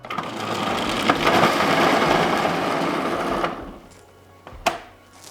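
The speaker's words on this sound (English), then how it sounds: "We're gonna place the cheese inside, push the plunger down." A Breville Sous Chef 16 Pro food processor coarse shredding cheese, a loud steady motor whir for about three and a half seconds that then winds down, followed by a couple of sharp clicks.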